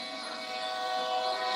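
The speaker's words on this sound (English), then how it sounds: "Look, train still going, right?" A long train of rail cars carrying migrants rolls along the tracks, giving a steady, mid-distance rumble with a faint tonal squeal that builds slightly louder. No voices are heard.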